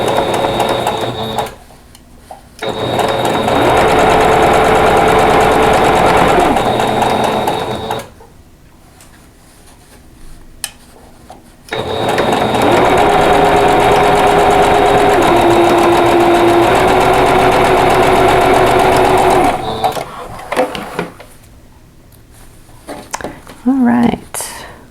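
A sewing machine stitches a tulip quilt block's flower head to its stem in two long steady runs, loud and close, with a pause between and brief handling noises near the end.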